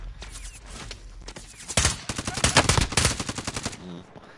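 Rapid gunfire rattles in a video game, sparse shots at first, then a loud dense burst of automatic fire building to a peak before tailing off, with a voice speaking briefly.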